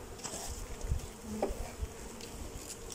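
Honeybees drone around a full brood box just after being transferred from a nuc, a steady soft buzz with a couple of faint knocks from the hive woodwork and no talking.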